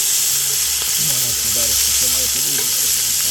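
Onions frying in a hot pan, with a loud, steady sizzle and hiss that runs unbroken throughout. A voice talks over it.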